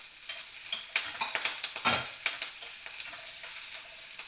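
Capsicum and cashews frying in a pan for vegetable pulao, with a steady close sizzle broken by repeated scraping stirs and spatula knocks throughout.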